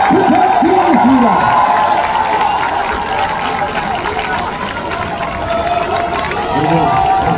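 A packed stadium crowd at the LG Twins' regular-season championship ceremony in Seoul gives loud, sustained applause and cheering for the players, while an announcer's amplified voice talks over the roar.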